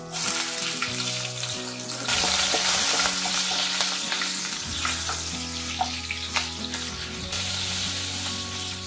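Curry leaves and green chillies hitting hot oil for rava dosa chutney, a loud, crackling sizzle with scattered sharp pops and some stirring, running continuously with no speech.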